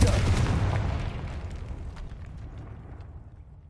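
In the video game Hogwarts Legacy, a Confringo blasting spell lands with a loud rumbling explosion that starts at full force and slowly fades away over several seconds.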